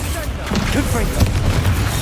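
A Confringo blasting-curse explosion in Hogwarts Legacy bursts loudly beneath a voice calling out a spell, amid continuous game combat noise and booming impacts.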